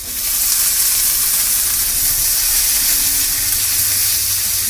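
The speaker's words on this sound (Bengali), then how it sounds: "আলুটা ভাজছে।" Potatoes fry in a kadai during home cooking, giving a steady, loud, continuous sizzle and hiss that holds evenly throughout with no voices.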